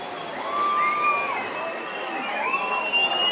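Crowd cheering at the 2004 SFL Regional Senior Grand Final football match between Cygnet and Sorell, a steady outdoor roar with shouts and whistles that swells slightly, heard from a distance.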